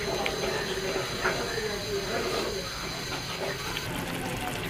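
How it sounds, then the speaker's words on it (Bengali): Spices cooked with milk in a kadai, stirred and fried with a steady loud sizzle and hiss throughout and occasional faint scrapes. "এখন আরেকটু নেড়ে চেড়ে মশলাগুলো একটু কষিয়ে নিব।"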